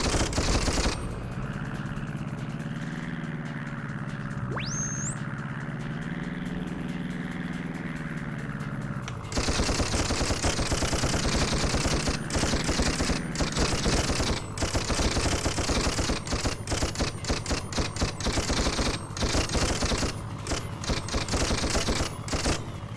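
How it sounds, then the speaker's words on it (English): Automated defense turrets at a base in Toy Commander on Dreamcast open fire with rapid, dense bursts of gunfire that keep going steadily after a quieter stretch of engine-like hum. No one speaks. "So my base does seem to have automated defense turrets."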